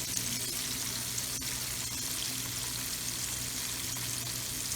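Seven chicken drumsticks deep-frying for golden fried chicken give a steady, even sizzle and crackle, close up and continuous with no voices over it.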